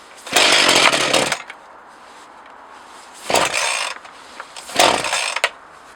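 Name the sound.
Partner 20 chainsaw engine idling low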